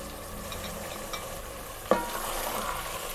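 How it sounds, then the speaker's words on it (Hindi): Onion and chicken frying in a pan for palak gosht, a steady sizzle running throughout with a sharp clatter of a stirring utensil near the middle, no voices. "प्याज को अच्छी तरह भूनना है, साथ ही चिकन भी फ्राई हो जाएगा"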